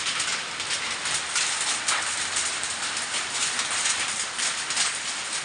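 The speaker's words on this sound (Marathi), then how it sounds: "पत्र्यावर तुम्हाला आवाज येत असेल एकदम खडखड खडखड आवाज येतो" Hailstones and heavy rain pound a tin sheet roof during a windstorm in Bhoom taluka, Dharashiv, a dense continuous rattling clatter with scattered louder impacts, steady and close throughout.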